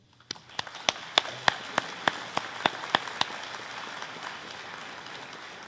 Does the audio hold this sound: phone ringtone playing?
no